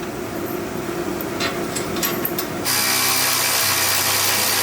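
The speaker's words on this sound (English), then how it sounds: "I'm just gonna snug these bolts down now" Power tool tightening bolts on a Jeep Cherokee XJ steering setup, starting with a lighter whirring buzz and then switching to a louder, steady high-pitched drive that runs to the end.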